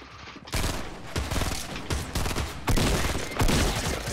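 Heavy shotgun blasts in Fortnite, a gold shotgun firing several loud, close booming shots spaced about a second apart, each with a sharp onset and a short rumbling tail, with no talking over them.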